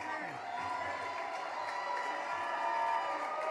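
A large crowd at the St. Louis Cardinals Winter Warm-Up 2023 main stage claps and cheers for Adam Wainwright, a steady dense roar of applause with whoops, holding level and swelling slightly toward the end.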